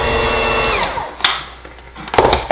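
An electric mixer whirs loudly through red velvet cake batter, then winds down and stops, followed by a few sharp clicks and clatters nearby.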